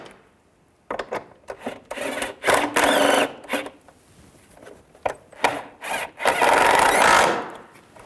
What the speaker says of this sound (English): And tighten these bolts down.